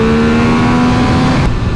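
Triumph Speed Triple 1200 RR motorcycle, a 180-horsepower free-revving triple, roars loudly through its airbox with a steady high engine drone and a falling rev tone before a sudden drop near the end, heard alone.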